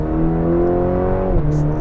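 A 2021 Cadillac CT4-V, a 325 hp compact luxury sedan in track mode, roars at full throttle, its engine tone climbing steadily and loudly before dropping slightly near the end, with no talk over it.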